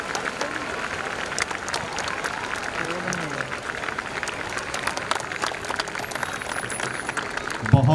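A crowd at an outdoor Independence Day flag ceremony at DVC Maithon in 2022 breaks into sustained, dense clapping that fills the whole stretch, with a voice speaking faintly underneath.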